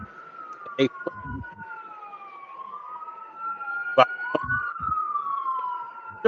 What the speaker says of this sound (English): That's the ambulance, man.